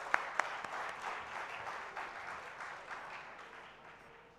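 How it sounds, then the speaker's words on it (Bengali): Audience applause at a university seminar on apparel washing, a steady moderate clapping that stays fairly distant and slowly fades over several seconds, with a couple of sharp claps at the start. "সো সবার জন্য জোরে একটা করতালি দিয়ে আমি চাই সবার কাছ থেকে সেটা আশা করছি"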